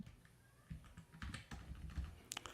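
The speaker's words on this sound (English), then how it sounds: "I was typing while I was talking." Computer keyboard typing during a podcast recording, a quick run of soft, uneven key clicks near the microphone, with a couple of sharper taps toward the end and no talking over it.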